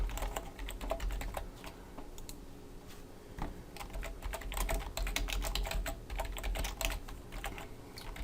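Steady, fast clacking of a computer keyboard as HTML code is typed, continuous keystrokes close up at moderate volume with only brief pauses.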